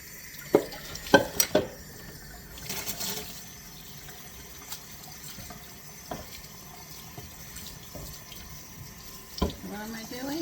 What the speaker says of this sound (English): Washing my cutting board off, of course.